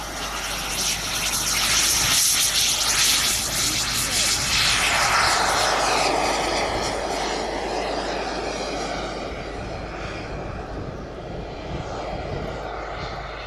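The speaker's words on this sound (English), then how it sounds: "And just in the background, you probably noticed there's an F-16" An F-16 fighter jet flies past with its afterburner lit, a broad, loud roar that swells within the first few seconds and then slowly fades as it moves away, with no other sound over it.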